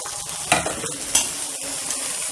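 Vegetables go into a pan with chicken for stir-frying, giving a loud close sizzle with two sharp bursts from stirring or tossing, then a steady crackling hiss, with no talk.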